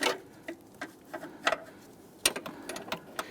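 A gear wrench ratchets a control arm nut loose on a 2011-2021 Jeep Grand Cherokee front suspension, giving irregular short metallic clicks in quick bursts, close and fairly quiet.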